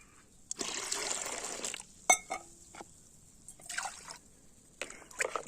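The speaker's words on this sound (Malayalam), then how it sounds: "നാല് കപ്പ് വെള്ളം കൂടി ചേർത്ത്" Water is poured in short, close bursts that splash and trickle into a container while mixing a plant fertilizer solution, with a sharp clink of glass or metal between pours.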